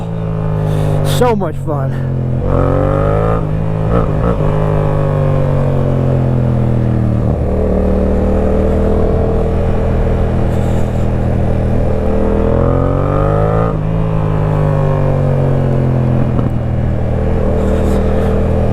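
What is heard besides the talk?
motorcycle downshifting and accelerating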